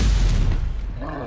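A Stupefy spell impact in Hogwarts Legacy, a brief deep booming hit that decays quickly, with a voice briefly heard at the very end.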